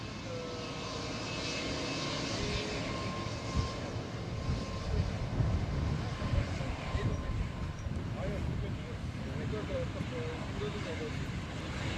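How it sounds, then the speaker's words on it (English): Jet engines of a Boeing 777X at the Farnborough airshow, a steady broad roar that fills the whole scene at moderate level, with people talking over it. "Listen how silent these engines are"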